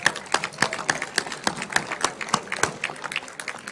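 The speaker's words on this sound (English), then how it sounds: "How about a round of applause for that?" A commencement audience at a Summer 2022 graduation ceremony gives a round of applause. Dense, steady clapping fills the room for a few seconds with no one talking.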